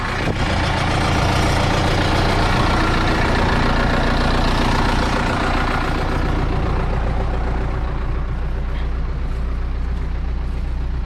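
An Ursus 912 tractor engine runs loud and close for the whole stretch with a steady low diesel rumble, and no talk is heard over it.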